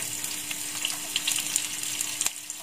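Shallots frying in cooking oil in a wok give a lively, close sizzle with scattered pops and crackles over a continuous hiss, and no talking.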